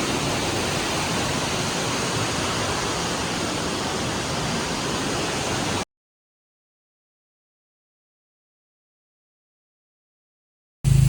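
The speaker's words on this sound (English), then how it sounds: "Okay, we are on the second waterfall." A waterfall rushes with a steady, dense roar for several seconds, then cuts abruptly to silence before a brief loud bump.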